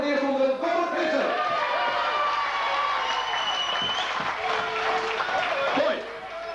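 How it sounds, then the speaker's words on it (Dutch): An audience at a 1992 strongman contest applauds a first-round winner, clapping mixed with cheers and crowd noise beneath clearly audible voices and shouting. "Even een grote applaus voor de absolute krullenfavoriet, winnaar van de eerste ronde, Bob Visser!"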